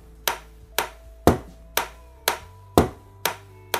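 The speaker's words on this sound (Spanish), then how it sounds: "Empezaríamos con un golpe que haremos con los nudillos, plano, ¿eh? Y luego, con el dedo índice, como si jugáramos a canicas, damos en la madera con la uña." Bare knuckles knock flat on a wooden surface, alternating with sharp fingernail flicks against the wood, about eight crisp taps spaced roughly half a second apart in a steady pattern, close and dry with no voices.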